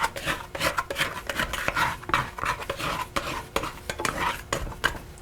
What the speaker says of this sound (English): Going to scrape my bowl.